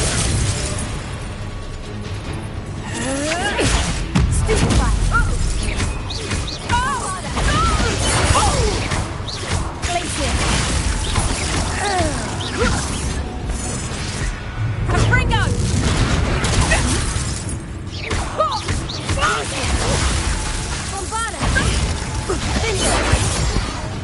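Confringo blasting spells explode repeatedly during a Hogwarts Legacy duel, loud booms and crackling bursts layered with clashing magical effects and dramatic music, while voices shout over the fight.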